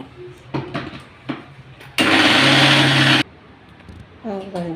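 A kitchen mixer grinder whirs loudly for about a second grinding curry leaves, onions, salt and oil, a steady dense buzz between stretches of speech before and after.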